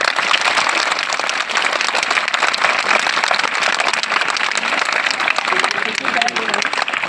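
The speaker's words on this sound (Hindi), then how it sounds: "पुनः हम लोग जोरदार ताली बजाकर हम सभी का स्वागत करेंगे।" An audience of students and teachers at a school welcome event applauding guests, a dense and loud wash of clapping that continues steadily with no pause.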